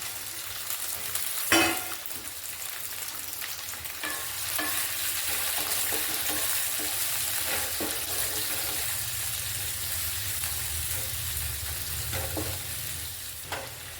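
Chopped capsicum frying in a little oil with minced garlic in a pan, a steady close sizzle with occasional stirring scrapes and clinks, no talking.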